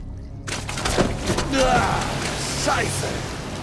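Water pouring and dripping in a sewer tunnel in the Mafia 2 video game, a steady wash of running water with splashy trickles and drips throughout, fairly close and continuous.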